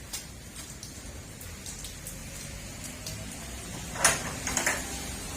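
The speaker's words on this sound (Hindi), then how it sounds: "इस्लामाबाद का मौसम कितना प्यारा मौसम है, बारिश ही बारिश है" Steady soft patter of rain in Islamabad over a quiet background, with a few brief sharper knocks near the end.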